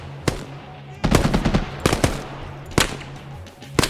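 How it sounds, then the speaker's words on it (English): Gunfire rings out in the Purgatory campaign, a tactical shooter, with sharp single shots and short bursts at irregular intervals, some close and loud, others echoing, over a low rumbling background with no talk. "No idea where the shots were coming there."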